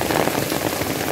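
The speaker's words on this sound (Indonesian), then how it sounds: "Hujannya gede, woi." Heavy rain pours down in a dense, steady hiss of drops hitting surfaces, loud and close throughout with no voices.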